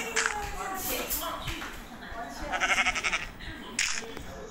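Several short, nasal sheep bleats from a Minecraft-style one block survival game come in bursts over a few seconds, with some soft shuffling and a voice speaking in the background.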